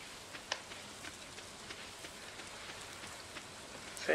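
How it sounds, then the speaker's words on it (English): Rain falls in the video game Stardew Valley, a soft, steady patter with scattered light drop ticks, faint and even, ending in a brief louder rustle. "Raining."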